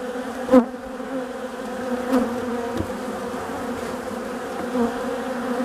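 A honey bee with deformed wings buzzes steadily up close, a continuous droning hum broken by a few brief louder bursts.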